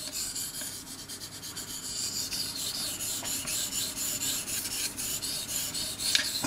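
A kitchen knife rasps back and forth across a Belgian coticule whetstone under only its own weight, a steady close scraping of repeated strokes with no talking.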